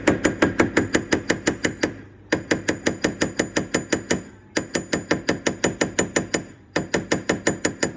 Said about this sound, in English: if you were hammering here on this side of the ring